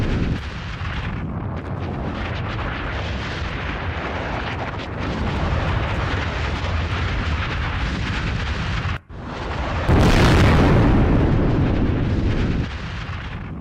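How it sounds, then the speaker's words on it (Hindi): Israeli airstrikes hitting Hezbollah positions set off explosions in several places: a loud, continuous roaring rumble that swells into a heavier burst partway through, with no voices. "कई जगहों पर जोरदार धमाका सुना गया"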